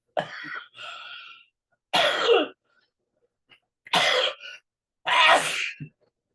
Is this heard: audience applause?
no